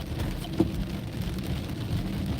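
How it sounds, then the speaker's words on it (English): Heavy rain drums steadily around a car on a night drive, with a deep rumble of thunder building underneath and a brief sharper crack near the start. "thunder and rain like this makes people do crazy stuff"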